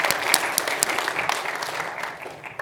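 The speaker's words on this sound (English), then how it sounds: "Give yourselves a round of applause for being here." An audience at a Dreamforce conference session breaks into full, continuous applause, a dense wash of many hands clapping close and loud throughout.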